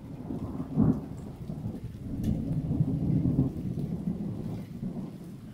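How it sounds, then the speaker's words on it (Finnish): Rain falling steadily during a thunderstorm in Joensuu, with a sharp thunder crack early on and low rumbling thunder rolling beneath the rainfall for the rest of the stretch, moderately loud and unbroken by voices. "Nimittäin pitkästä aikaa sataa."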